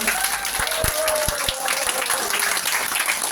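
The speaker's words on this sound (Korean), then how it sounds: "크게 박수로 환영부터 하고" Audience applause welcoming the crowd at a political party's sixth anniversary event, a dense, continuous wash of clapping from a large hall with a few heavy low thumps near the start.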